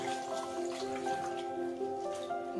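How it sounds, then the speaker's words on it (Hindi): Masoor dal lentils are washed in water, with soft drips and squishy sloshing heard up close over a faint steady tonal hum. "1 कप मसूर दाल लेके उसको अच्छी तरह धुएंगे"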